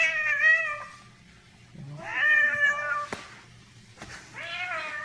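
A cat in the Outlast horror video game gives three drawn-out, close meows, each separated by a short pause, with no talking.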